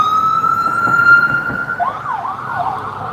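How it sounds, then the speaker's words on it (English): An ambulance siren sounds outdoors, first a steady tone and then a rising and falling wail, loud and fairly near as the vehicle passes, with traffic rumble beneath and no talk. "There's an ambulance."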